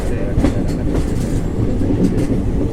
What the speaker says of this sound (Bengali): এখানে ট্রেনটা অনেক আস্তেই চলবে